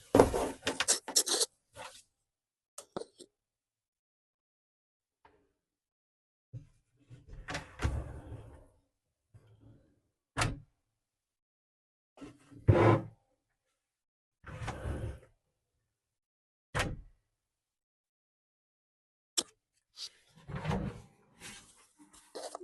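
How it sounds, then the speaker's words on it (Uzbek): Furniture drawers on runner mechanisms slide open and shut one after another, quiet separated sliding rasps and soft knocks with silent gaps between each movement. "tortma mexanizmini qanaqa ishlashini, ya'ni ovoz chiqadimi yo'qmi o'shani birgalikda ko'ramiz"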